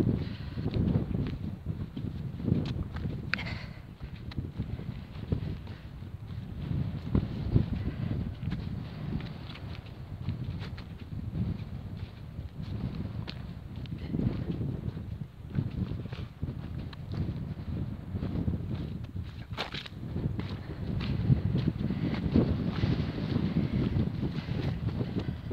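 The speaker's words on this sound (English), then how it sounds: "I don't want to sit in this wind. It's a bit relentless" Relentless wind buffets the microphone on exposed peat moorland near Black Hill, a continuous low roaring rumble that surges and eases in gusts, loud and close with no talking.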